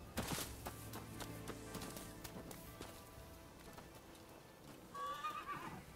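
A horse at a horse dealer in the Rise of the Ronin video game whinnies loudly, then hooves clop softly under game ambience before a short second whinny near the end.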